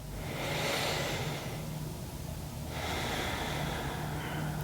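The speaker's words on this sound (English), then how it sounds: "One more big breath here." Two long, deep breaths, an inhale then a slow exhale, close and airy, during a sacral-focused yoga class, with no talking.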